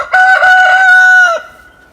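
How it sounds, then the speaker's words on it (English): A rooster crows once, loud and close, in a single sustained harsh call lasting just over a second before cutting off into quiet. "I don't need a dozen roosters in there."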